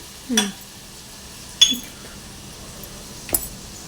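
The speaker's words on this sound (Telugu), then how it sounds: "బాగా కలుపుకుంటున్నానండి" A spoon stirs vegetable khichdi with tomato, turmeric and chili powder in a cooking pot, giving three separate metallic scrapes and clinks spaced about 1.5 seconds apart over a quiet kitchen background.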